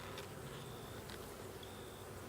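Honey bees buzz around an open, calm hive with a brood-filled frame, a faint, steady insect drone with occasional higher whines of single bees passing close.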